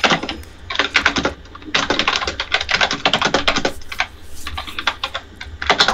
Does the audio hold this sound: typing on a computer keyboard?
yes